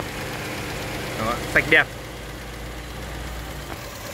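Used car engine idling quietly and evenly, a soft low hum heard close, with a few short spoken words over it.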